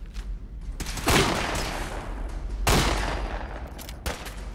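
Gunfire in Fallout 4 during a zombie-infested fight: bursts of shots, with heavy volleys near 1 second and again near 2.7 seconds, lighter firing in between and a final burst around 4 seconds, loud and close.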